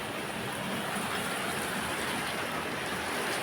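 A steady, dense wash of heavy rain in Dubai hisses continuously without pause, filling the space evenly from start to finish.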